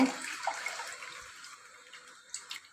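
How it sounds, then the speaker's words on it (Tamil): Water trickling and splashing as soaked tamarind pulp is squeezed and strained through a filter for traditional rasam, a soft wet spatter that fades over a few seconds with brief louder drips near the end. "ஒரு இருபது நிமிஷம் ஊற வச்சுட்டு ஃபில்டர் பண்ணுறேன்"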